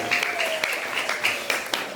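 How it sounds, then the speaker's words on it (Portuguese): Students applauding at a school history and art event, a dense steady patter of hand claps with a few sharper slaps, close and continuous for a couple of seconds alongside a faint voice. "a quem eu peço uma salva de palmas para vocês mesmos."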